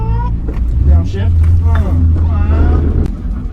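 Inside an Infiniti G20 fitted with an SR20 engine, a steady low engine drone follows a downshift while circling a roundabout, loud and continuous, with people talking over it throughout.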